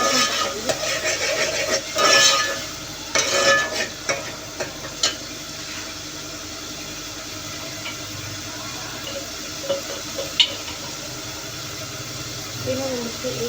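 Onions fry in a pan for arwi masala, stirred now and then with soft scraping bursts over a low, steady sizzle.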